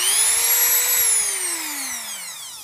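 A Dremel 4000 rotary tool spinning at high speed gives a loud, close, high-pitched whine that holds steady, then slowly drops in pitch as it winds down.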